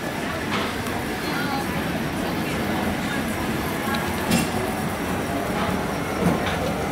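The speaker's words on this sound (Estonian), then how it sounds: "Siuke on see tramm siis." Hong Kong tram running along the street, a steady rumble with faint clacking of the rails and a couple of brief squeaks, as people talk nearby.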